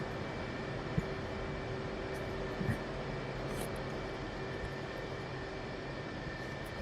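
An F/A-18 jet engine in the DCS flight simulator holds a steady, even roar while spooling up on the brakes, with a constant whine and hum throughout and a couple of faint clicks.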